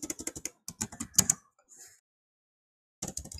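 Keys clatter on a computer keyboard while PHP and JavaScript code is typed, a quick close run of clicks, a short pause, then another burst of typing.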